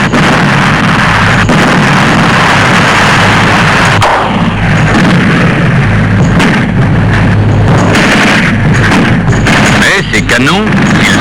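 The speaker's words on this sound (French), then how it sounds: "l'artillerie est là, qui par-dessus les tranchées françaises pilonne les lignes allemandes" Archival war film of artillery pounding German lines over French trenches, a dense, loud barrage of booming shellfire and rumbling detonations that runs continuously, with faint overlapping sound in the background.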